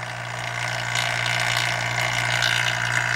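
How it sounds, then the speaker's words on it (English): A continuous mechanical hum from a vacuum pump running steadily on a 2014 Chevy Silverado AC system, with a low drone and a hissy, airy layer on top, no voices. "So go ahead and get this vacuum started."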